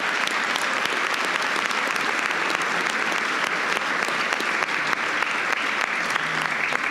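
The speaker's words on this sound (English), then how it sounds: "let's give the parents and the matrics once more a big round of applause" Audience applause for parents and the matric class at a school valedictory ceremony, a steady, dense wash of many hands clapping throughout, loud and sustained with no talk over it.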